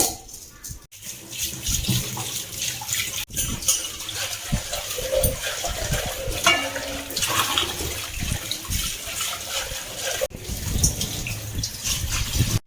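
Running water gushes steadily into an aluminium kadai as it is rinsed and washed in a sink, a loud continuous splash with brief interruptions and scraping handling noises.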